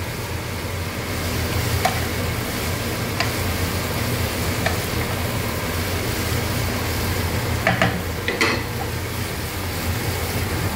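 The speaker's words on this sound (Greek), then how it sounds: "βάζω τα μανιτάρια. Έφτασε σε σημείο. Έφτασε σε σημείο. Μανιταρό. Το ανακατεύω πολύ καλά." Mushrooms fry in a pan for carbonara with a constant, close sizzle, broken by a few sharp scrapes and clinks as a utensil stirs them.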